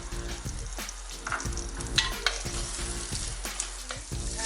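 Chopped small shallots crackle in about two tablespoons of hot oil in a clay pot, a continuous close sizzle with occasional stirring scrapes and light pops, no speech.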